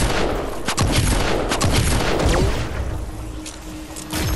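Rapid, overlapping bursts of gunfire in Fortnite Save the World fill a busy combat scene, with sharp shots stacking up steadily over dense game background noise and no voices.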